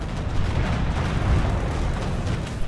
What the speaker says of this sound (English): Flame mortar attack has been ordered.